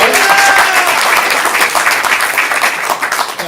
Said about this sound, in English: Dowdy, give him a round of applause.